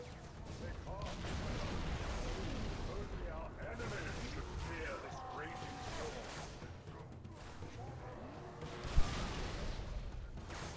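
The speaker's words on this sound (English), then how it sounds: "Explosions there." Halo 3 explosions and gunfire rumble and pop continuously, with one sharp bang standing out amid the busy mix.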